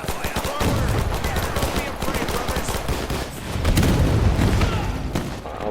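Gunfire crackles through a Men of War 2 battle, dense rapid bursts and scattered shots with booming impacts, loud and continuous, with a voice talking over it.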